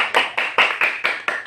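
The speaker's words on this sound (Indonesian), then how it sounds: "Tepuk tangan dulu" A class of students claps their hands together in about seven short, even bursts, loud and close, with no talk over them.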